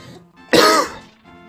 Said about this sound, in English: I guess I got a little bit of a cough there